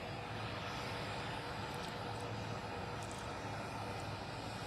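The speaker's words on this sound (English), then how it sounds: "And these large engines stop humming." Large jet engines on the presidential plane arriving at Sea-Tac Airport give a steady, loud, unbroken hum and whine that holds evenly across the whole stretch, with no speech over it.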